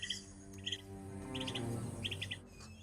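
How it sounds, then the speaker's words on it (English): Small birds chirping in Bundala Bird Park in Sri Lanka, giving several quick high twittering bursts in short clusters over a soft outdoor background, fairly faint and with no voices. "and lots of smaller birds"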